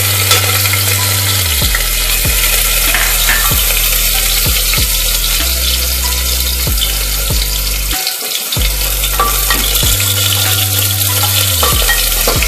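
Chopped garlic fries in a pan for a Kolkata-style chicken stew, a loud continuous sizzle with short stirring scrapes and clicks close by, no voices.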